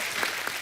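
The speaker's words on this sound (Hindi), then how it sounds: "जोरदार ताली प्रोमो के लिए।" Studio audience on The Kapil Sharma Show applauding a film promo: a short, dense burst of steady clapping from a crowd, fairly loud and continuous throughout.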